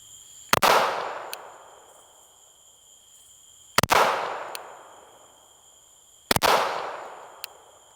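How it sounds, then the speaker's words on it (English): Three loud gunshots from a Glock 49 pistol fitted with a compensator, fired at a range in the dark, each a sharp close crack with a long echoing decay, spaced roughly three seconds apart. "Glock 49 with compensator in the dark."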